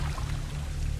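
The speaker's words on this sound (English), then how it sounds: "Sounds like a lot of water" Heavy, continuous rush of water filling a scene from a science-fiction TV series, a steady broadband wash with low rumble and no pauses, loud and unbroken throughout.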